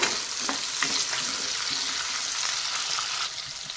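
Capsicum frying in a generous amount of oil in a pan for a dhaba-style gravy, a steady close sizzle and crackle with faint stirring scrapes throughout, no voices.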